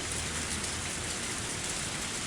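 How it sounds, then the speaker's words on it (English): Steady, dense rain falling in an even, continuous hiss with no breaks, moderately loud and with no voices. "As the rain came down on me"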